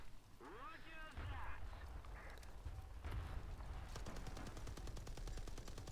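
Talk with quacking-like game sounds first, then sustained rapid tank machine-gun fire from a Soviet heavy tank in a game, a fast, even rattle dominating the last two seconds.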